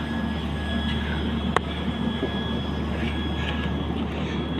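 A train waits at a railway station late at night, a steady low rumble and hum with a faint high whine and one sharp click, heard alone without talk.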